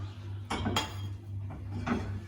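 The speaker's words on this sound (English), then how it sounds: "we need to stir it up until the sugar dissolves" A spoon clinks against the inside of a cup or pot, stirring sugar into a cup of boiling water, a few light stirring taps over a steady low hum.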